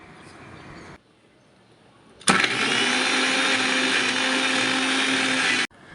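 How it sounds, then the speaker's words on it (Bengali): A kitchen mixer grinder whirs loudly for about three seconds, pureeing boiled mango into a paste, starting abruptly and cutting off sharply after a quiet pause. "এবার আমটাকে আমি ভালো করে মিক্সিতে পেস্ট করে নেব"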